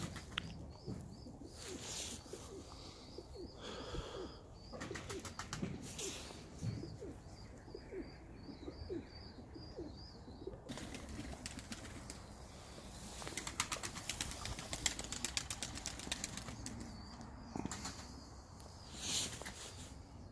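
Clipped-wing tumbler pigeons cooing softly close by, with bursts of flapping wings as birds take off, scattered chirps and rustling over a quiet outdoor background, no speech.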